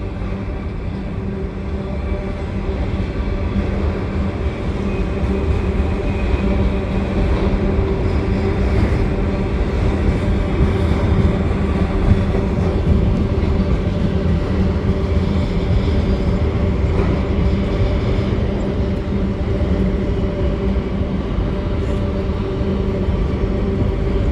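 A CN local and a long freight with four engines pass at a canal bridge, giving a loud, steady rumble of diesel locomotives and rolling wagons throughout.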